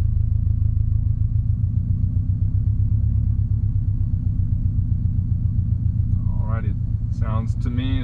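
A 2019 Subaru STI S209 with a manual gearbox idles and eases away in gear, giving a steady low engine rumble throughout. A brief voice-like sound rises over it near the end.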